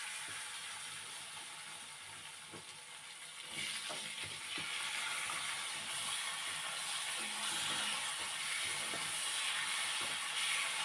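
Potatoes and vegetable stalks drop into hot oil in a kadai, and a soft hiss swells into a louder, steady sizzle with scattered crackles, close by.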